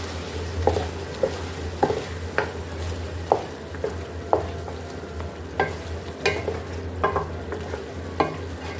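Chicken kali mirch karahi with yogurt being stirred in a pan, a spoon scraping and clacking at irregular intervals over a steady low sizzle of frying, with no talk.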